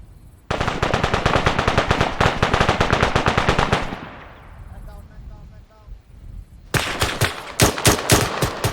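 Rapid automatic gunfire from the military game Arma 3 hammers loudly and continuously for several seconds, drops to a quieter rumbling lull with faint distant shots, then resumes in sharp bursts.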